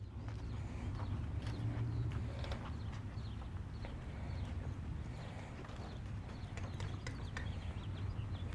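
A horse's hooves clop and thud irregularly on a hollow trailer floor as it walks in, with shuffling and faint background noise.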